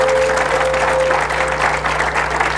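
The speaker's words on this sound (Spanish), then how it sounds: "Dele un fuerte aplauso a Dios" A church congregation applauding, a steady dense burst of clapping from many hands with a faint sustained tone underneath, loud and continuous for a few seconds.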